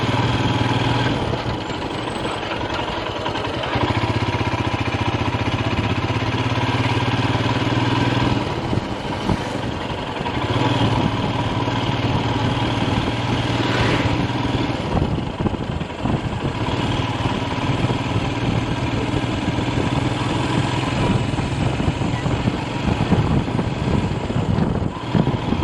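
Motorcycle engine idling steadily on a bike trip near Maithon dam, a continuous low rumble with a constant drone throughout, fairly loud and close, with no talk over it.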